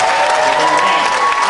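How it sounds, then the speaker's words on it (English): Loud, dense audience applause for a dancer at a Dancing With The Stars of Auburn show, a brief continuous burst with faint cheering. "Another big round of applause for Chris."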